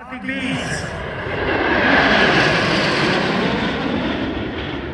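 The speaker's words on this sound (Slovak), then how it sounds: "Hlavným zážitkom boli 4 Albatrosy L-39 Baltic Bees." Four Aero L-39 Albatros jets of the Baltic Bees aerobatic team roar overhead at the Air Race Jasná 2025 air show, a loud continuous jet rush swelling toward the middle and holding steady, with faint voices underneath.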